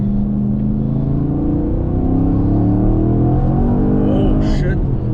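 A fifth-generation Chevrolet Camaro Z/28 V8 revs hard under acceleration on a backroad, its deep engine note rising steadily in pitch from inside the cabin with a brief squeal near the end.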